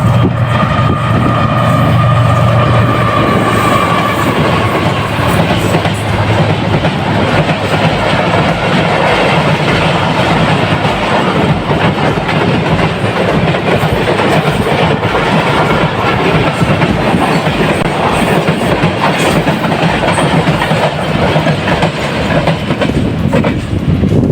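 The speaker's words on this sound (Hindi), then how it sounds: "GU 9015 की लीड के साथ 42 डाउन कराक्रम एक्सप्रेस" Karakoram Express passenger train, 42 Down, hauled by a GU 9015 locomotive, rolling steadily through a railway station near a bridge, a loud continuous rumble with clickety-clack of wheels on rail joints throughout and no talk.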